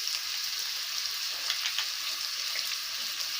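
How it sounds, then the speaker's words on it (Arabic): Meat and onions, dusted with black pepper, sauté in a pan for a spinach stew, giving a steady, fairly quiet sizzle and crackle with no voices. "واديها بردك بقى تشويحة كده مع البصلة"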